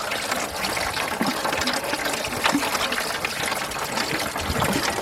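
Antifreeze draining from a 1991 Mercury Capri radiator, a continuous loud splashing gush of liquid pouring into a container, steady throughout and close by.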